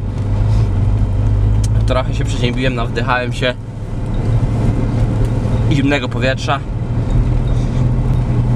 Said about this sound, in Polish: Jadę cały czas dwójką, bo chcę nagrzać trochę samochód